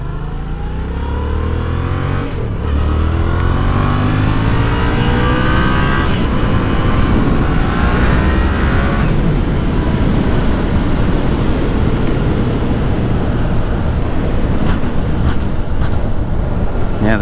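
Yamaha MT motorcycle engine accelerating on a ride, loud and close: the revs climb in rising sweeps with gear changes, and wind rush roars steadily over it for the whole stretch.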